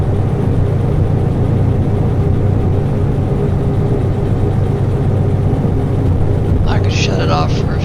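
Diesel locomotive engine with its cooling fan running in the Derail Valley train game, a loud, steady low-pitched drone and whir climbing a hill, with a voice talking over it.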